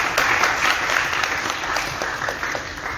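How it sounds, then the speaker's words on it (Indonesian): Audience applause in a large hall in Bali, steady dense clapping of many hands at moderate distance, sustained throughout with no talk over it. "Tepuk tangan buat semua."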